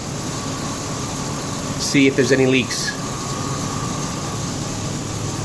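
Ford Ranger engine idling steadily, a low continuous hum and hiss with a fan-like drone running evenly throughout, while a person speaks briefly in the middle.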